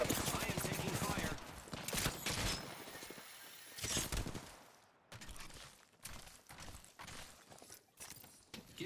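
Gunfire in a Tomb Raider video game, loud rapid bursts of shots crackling close by, with several short pauses between volleys and no talk over them.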